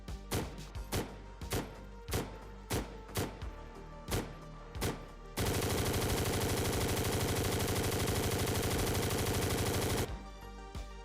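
An MG4 machine gun in the Squad video game's German Bundeswehr mod: about a dozen loud, evenly spaced single shots, then a sustained five-second fully automatic burst, close and unaccompanied.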